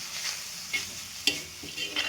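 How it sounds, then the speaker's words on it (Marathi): Grated radish greens with crushed peanuts are stir-fried on an iron griddle, a soft sizzle punctuated by sharp spatula scrapes and taps against the metal, heard up close with no talking. "लोखंडाचा तवा, छान परतून घ्यायचं"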